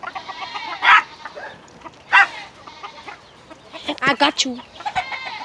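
Farm chickens clucking in short, bright bursts, several calls spaced through the moment at close range, with a person speaking briefly between them.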